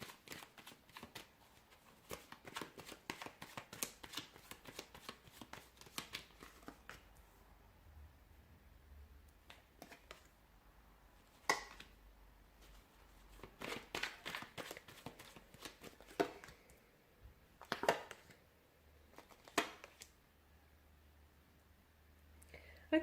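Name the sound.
shuffling tarot cards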